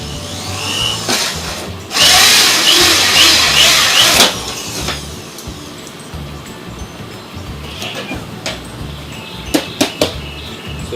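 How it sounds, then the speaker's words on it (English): Power drill with a hole saw bit cutting a 2-inch diameter hole for a DIY tripod mount, a close loud grinding burst of about two seconds followed by quieter handling clicks and knocks. "It's made for cutting about a 2-inch diameter hole."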